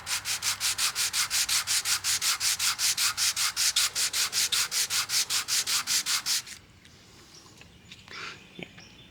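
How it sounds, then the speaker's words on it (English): Hand sanding across a glued-up wood panel to clear tape residue, a loud, fast rhythmic rasping of even back-and-forth strokes up close, then stopping abruptly, followed by quiet handling and faint knocks. "Keep sanding a little bit."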